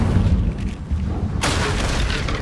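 A fire spell cast in Hogwarts Legacy gives a sudden booming whoosh that breaks into a loud, sustained crackling roar, close and dense, rising out of rumbling ambient game sound.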